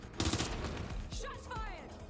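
Burst of gunfire in the video game Watch Dogs Legion, a loud cluster of rapid shots at the start followed by scattered game sounds, with some voice activity mixed in.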